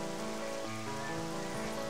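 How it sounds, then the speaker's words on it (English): Steady rain falls in Zelda: Twilight Princess as an even, continuous wash that holds level for the whole moment, with a soft tonal game ambience underneath and no voices. "I just hate the rain."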